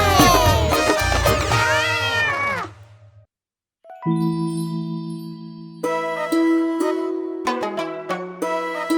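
A cartoon cat meows several times, bright and close, in a Hindi children's rhyme, followed by soft chiming, tinkling music after a short pause.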